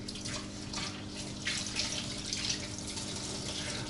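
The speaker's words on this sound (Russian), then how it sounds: "И мы решили еще проверить, работает ли горячая вода." Hot water running steadily from a household tap, a continuous close splashing hiss with a few brief surges, no talk.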